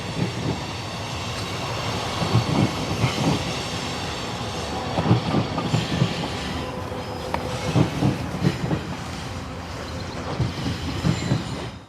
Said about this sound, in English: there's a second train coming by, so it's even louder